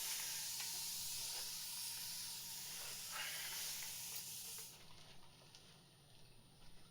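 Faint, breathy spray hiss while a frizzy wig is sprayed during straightening, steady for several seconds and then cutting out to quiet room tone.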